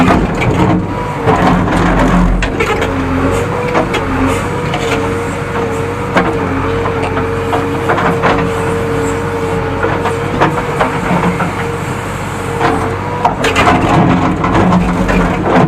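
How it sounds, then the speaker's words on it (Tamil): A JCB backhoe digs a pit for a coconut tree, with a loud steady engine drone, hydraulic whine and crunching of earth and rock, close and continuous with no talk. "தென்னங்குழி எடுத்துகிட்டு இருக்கோம்"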